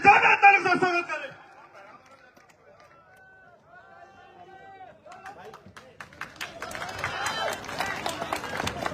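A rally crowd bursts into loud applause and cheering to welcome Chandrashekhar Azad at a public meeting held with Hanuman Beniwal in support of Anjali Yadav. The clapping is brief, a quieter stretch follows, then crowd noise swells again.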